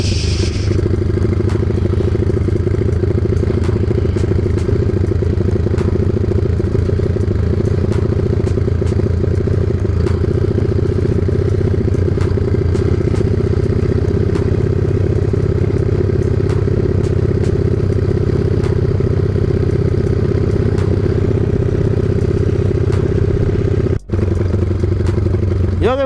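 A motorcycle engine idles steadily while it warms up after sitting unused for five days. The low, close, continuous engine drone holds an even level throughout, with small clatters over it.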